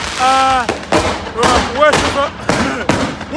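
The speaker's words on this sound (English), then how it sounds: "No, Noel, excuse the fireworks." Fireworks crackle and bang in repeated bursts at a Manchester City champions parade, loud and close amid crowd noise, with cheering and whistles rising between the blasts.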